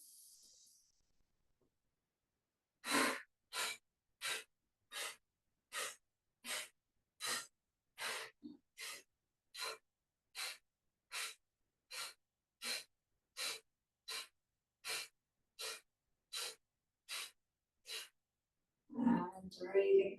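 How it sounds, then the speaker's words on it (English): Slow, even breathing during a beginners' hatha yoga exercise, with about twenty-two short rhythmic breaths following a big inhale, close and clear with no talk between them, and a brief rustle at the end. "Big inhale."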